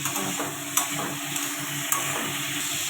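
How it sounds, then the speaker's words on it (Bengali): Ridge gourd frying with turmeric in oil in a pan, a steady close sizzle with a few soft clicks of a spatula stirring against the pan. "ঝিঙে একটু হলুদ দিয়ে দিলাম হলুদ দিয়ে এটা ভেজে নামিয়ে নেবো"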